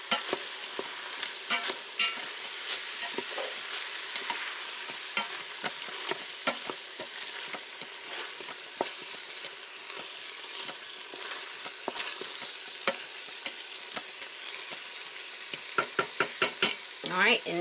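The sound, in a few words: stirring ground beef with kosher salt in Instant Pot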